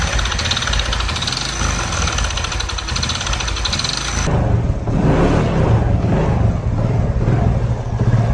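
A 110cc motorcycle engine after clutch repair runs with a steady mechanical idle that shifts midway into a rougher, louder throb, close and continuous with no speech.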